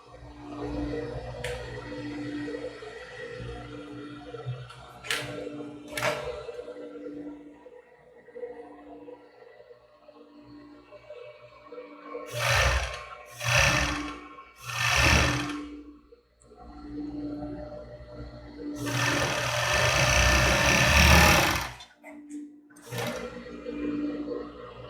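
A sewing machine runs in several short bursts, stitching a seam close to the edge of a cropped top, with quieter pauses and handling sounds between the runs.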